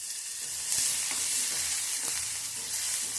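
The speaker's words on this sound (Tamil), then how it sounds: "இப்போ சீரகம் கடுகு நல்லா பொரிஞ்சிருச்சு" Cumin and mustard seeds splutter and pop in hot oil alongside frying onion, a steady close sizzle dotted with sharp crackles, no voices.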